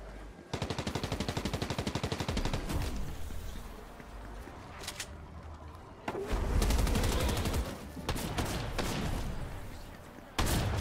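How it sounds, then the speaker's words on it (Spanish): Gunfire in the Fortnite video game: a rapid burst of automatic shots early on, then scattered single and clustered shots with heavier thumps, mixed with faint game ambience. "solo escucho disparos"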